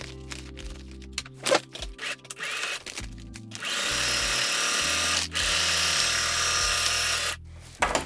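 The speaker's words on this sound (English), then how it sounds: "I've just used the longest stitch on my machine" A sewing machine set to its longest stitch sews a feed sack shopping bag. Short stop-start whirring bursts give way to a steady, loud motor run lasting several seconds, then it stops again.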